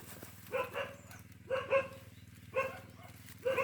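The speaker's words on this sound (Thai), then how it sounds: "หมาก็เห่าเลยค่ะ" A dog barks in four separate bursts of two or three barks each, spaced about a second apart, over a low steady hum, with no talking.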